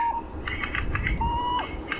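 A ghost bird (squill) gives its alarm call in the bush on a sunrise safari drive: a couple of thin, drawn-out whistled notes with short chirps between them, moderately close over a low background rumble.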